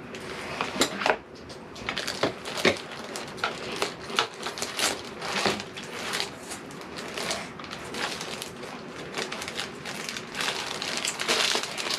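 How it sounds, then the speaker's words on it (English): A clearance sticker is peeled off a purchased item, giving continuous rustling, crinkling and sharp tearing crackles of paper and adhesive, close up, with no talk. "Oh, let me take off that clearance sticker."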